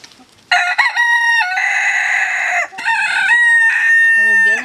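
Silkie chickens call loudly and close by, with drawn-out crowing and clucking squawks in overlapping bursts, no people talking.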